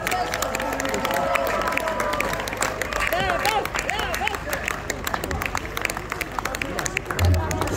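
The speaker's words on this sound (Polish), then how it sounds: "bardzo Wam dziękuję pięknie za te oklaski" A crowd at a 2022 concert in Srebrna Góra keeps up continuous clapping with scattered cheers and crowd murmur, fairly loud and steady throughout.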